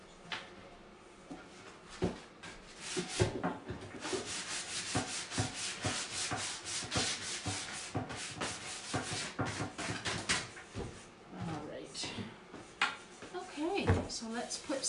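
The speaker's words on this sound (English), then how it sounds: "a little sanding on the ends." Sandpaper rubs back and forth on the ends of a painted wooden piece in quick, uneven scratchy strokes, close and steady, with a person talking intermittently over it.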